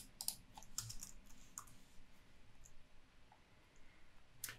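Keys clatter on a computer keyboard as a DAX formula is typed, a few quick light clicks in short bursts at close range, fairly quiet with no talking.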